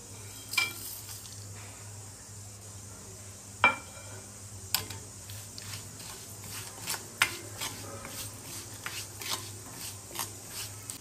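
Dry spices roast in a spoonful of oil in a kadhai for misal, a faint steady sizzle under intermittent scraping and stirring clicks of a spoon against the pan, with a low hum beneath.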